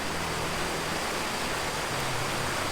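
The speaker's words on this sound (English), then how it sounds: "beautiful fresh water flowing through the stream" Fresh water rushes along a stream near Vang Vieng, Laos, in the rainy season, making a constant, loud, even hiss of flowing water.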